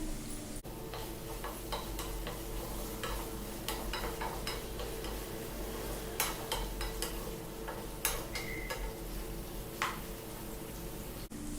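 Onion and paneer fry in a pan with a low, steady sizzle, while light ticking taps and scrapes from a utensil recur irregularly throughout.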